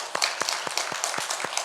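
A small congregation claps together in a church service, giving roughly seven quick, fairly even claps in under two seconds, moderately faint with no talk over it.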